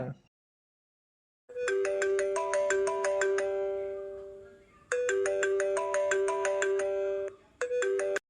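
A mobile phone ringtone plays a bright, melodic chime pattern in three bursts, a long ringing phrase, a short pause, another full phrase and a brief restart. It sounds clear and fairly loud, with no voices.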